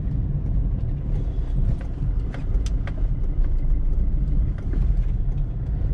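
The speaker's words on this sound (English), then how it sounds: "Engine does sound a little bit on the harsher side." Diesel engine of a 2010 Maruti Suzuki Swift accelerating at full throttle, heard from inside the car as a steady, harsh low drone with road rumble throughout and no speech.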